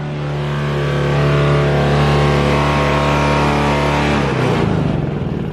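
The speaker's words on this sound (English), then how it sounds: "Turn the generator off and you're good to go." A generator on a mobile detailing rig hums steadily and loudly with a constant tonal drone, then winds down and cuts off near the end as it is switched off.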